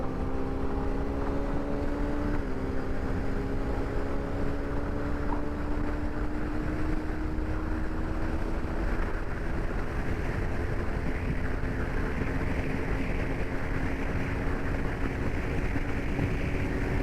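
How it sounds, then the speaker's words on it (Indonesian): Automatic sport-style scooter motorcycle in Drive mode at full throttle, a steady engine drone whose pitch climbs gradually as it accelerates, mixed with wind rush and no talking. "gua full throttle."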